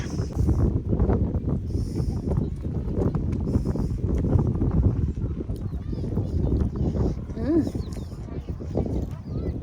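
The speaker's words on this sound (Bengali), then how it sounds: "কি পরিমাণ বাতাস" Strong wind buffets the microphone in an outdoor strawberry garden, a loud, continuous low rumble that lasts the whole time with a brief voice sound partway through.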